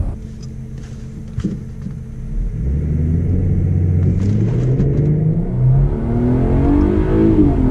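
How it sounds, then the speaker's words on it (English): A Mercedes GLE 350 4MATIC with a V6 engine accelerates hard, a loud, close engine rumble rising steadily in pitch as revs build, with no one talking. "yo, this little V6 be moving."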